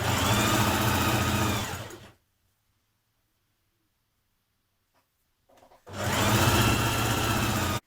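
A home sewing machine runs steadily along the outer leg seam of Simplicity 8424 leggings, one loud continuous burst, then about four seconds of silence, then a second equally loud run.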